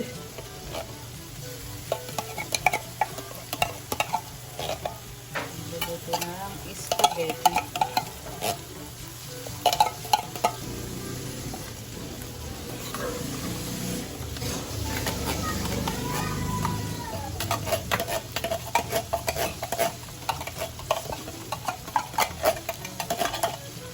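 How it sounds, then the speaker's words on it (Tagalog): Hotdog and corned beef frying in a pan while being stirred for sweet spaghetti: steady close sizzling throughout with repeated scraping and clinking of a utensil against the pan, and a louder burst of hissing midway. "dahil luto na yung hotdog, lalagay ko na din yung corn dip"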